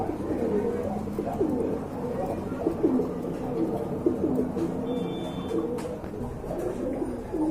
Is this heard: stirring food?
no